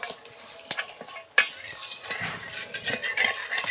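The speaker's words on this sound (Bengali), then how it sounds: "জলের মধ্যে একটু নুন দিয়ে দিচ্ছি, খুব সামান্য চিনি দিয়ে দিচ্ছি হাফ বাটি মতো, একটু ভালো করে নাড়াচাড়া করে নেব" A spoon stirs salt and a little sugar into about half a bowl of warm water, clinking and scraping against the bowl with a couple of sharp knocks and soft swirling in between, close and fairly quiet.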